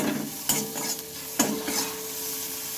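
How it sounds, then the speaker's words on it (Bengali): Spice masala frying and being stirred in a pan for a taro and arum root curry, a soft sizzle under a few sharp scrapes of a spoon against the pan. "এইভাবে মশলাটাকে ভেজে নেব একটু নেড়ে দেবে"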